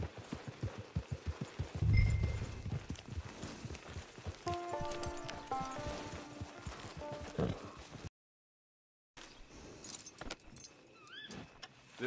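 Horse hooves clip-clop in the Red Dead Redemption 2 video game, a run of soft, rhythmic hoof falls with jingling tack, joined by tonal game sounds before a sudden gap of silence.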